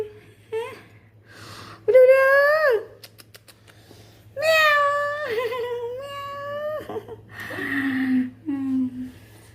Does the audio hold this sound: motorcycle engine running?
no